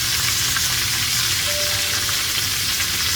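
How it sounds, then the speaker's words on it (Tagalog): Stuffed milkfish (rellenong bangus) fries in a pan with a loud, continuous hiss and crackle of oil that holds steady throughout, with no voices. "Malapit nang maluto ang aking rellenong bangus."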